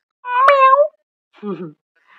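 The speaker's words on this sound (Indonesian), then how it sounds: "Kucing kok suaranya begitu?" A cat lets out a loud, drawn-out meow close by, followed by a lower, rougher second call and a faint trailing sound.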